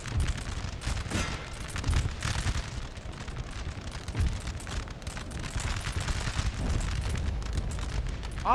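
Artillery and musket fire roars through a Napoleon: Total War battle, a continuous dense barrage of booms and crackling volleys, loud and close, with no talk over it.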